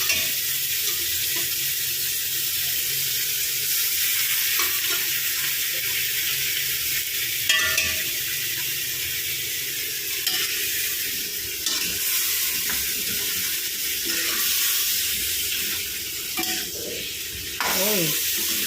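Pork ribs caldereta frying and simmering in a rattling wok-style pan, giving a steady, fairly loud sizzle with occasional stirring scrapes and clinks throughout.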